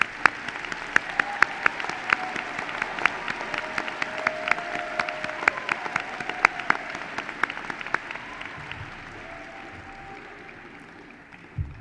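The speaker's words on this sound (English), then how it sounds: "There you go. Round of applause." A commencement ceremony audience applauds with sustained clapping and sharp individual claps standing out, with a few faint voices underneath, tapering off over about twelve seconds.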